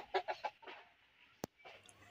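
Chickens on a small mixed farm cluck in a few short, soft bursts near the start, followed by a quiet stretch broken by one sharp click and faint movement.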